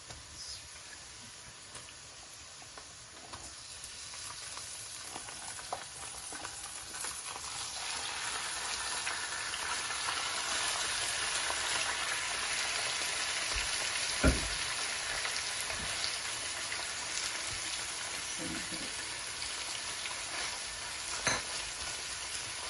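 Chicken being fried in a pot for Sindhi chicken biryani gives a steady, close, broadband sizzle that holds for the whole stretch, with an occasional clatter of utensil against the pan.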